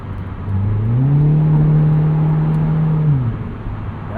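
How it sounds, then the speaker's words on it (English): A 2008 Mitsubishi Eclipse Spyder with a 4-speed automatic kicks down and accelerates, its engine note jumping up and holding a strong, rising drone for a couple of seconds before easing off, heard from inside the car. "Nice kickdown."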